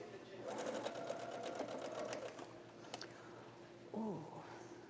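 A sewing machine stitches a seam on a quilt block in a quick, even burst of needle strokes lasting a couple of seconds, close and clear, followed by a brief voice.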